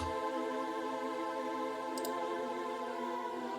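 An 80s-style vocal synth patch imitating a choir holds a soft, steady, breathy chord, quiet and clearly synthetic, with a faint click partway through.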